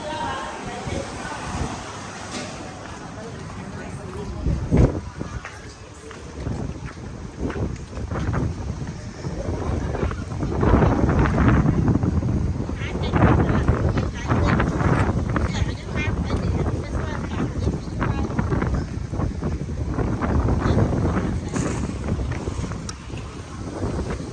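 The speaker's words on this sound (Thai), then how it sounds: "ลมแรงมาก" Strong wind buffets the microphone outdoors, a continuous loud rushing roar that swells and gusts throughout while people talk underneath.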